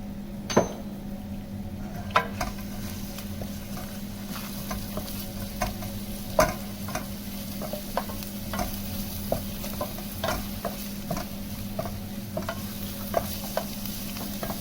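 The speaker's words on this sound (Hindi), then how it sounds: "सबसे पहले लहसुन और प्याज जाएगा इसके अंदर" Garlic and onion frying in about three spoons of oil for chicken macaroni, a continuous sizzle with regular spoon clicks and scrapes against the pan throughout.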